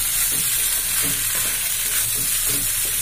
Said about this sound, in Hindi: मैक्रोनी को मैंने डाल दिया है, अभी इसे मसाले के साथ अच्छे से मैं मिक्स कर लूंगी।